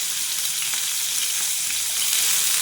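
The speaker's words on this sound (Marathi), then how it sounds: "पॅनमध्ये मी सगळं त्याचं तेल ओतलं आणि तेल गरम झालं की इथे मी कांदा टाकलेला आहे" Onion frying in hot oil in a pan, a steady, fairly loud broadband sizzle that holds evenly throughout with no voices.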